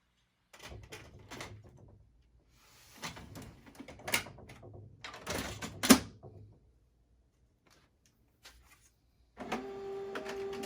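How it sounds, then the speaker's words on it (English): An HP254 laser printer runs its process after a black toner swap, giving intermittent mechanical whirring, clicks and clunks in several bursts with pauses between them, then a steady hum near the end. "let the printer go through its process"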